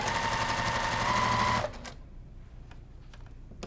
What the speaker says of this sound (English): So I'm removing my pins so that I don't break my sewing machine.